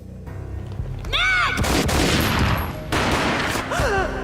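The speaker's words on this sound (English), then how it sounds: "A gunshot boomed and she fell down in slow motion." Gunfire in the Max Payne video game: a dense burst of loud, reverberant shots and booming blasts fills most of the clip, with whooshing slow-motion effects and a brief lull between volleys.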